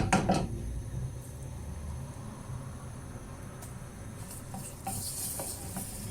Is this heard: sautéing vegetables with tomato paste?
yes